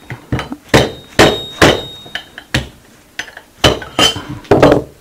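Hard hammer blows knocking a bonded piece out of a large prototype structure, about ten loud sharp metallic strikes in irregular clusters, close and with no talk.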